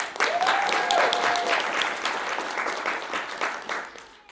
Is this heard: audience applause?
yes